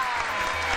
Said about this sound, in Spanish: ¡Aplauso para Seila!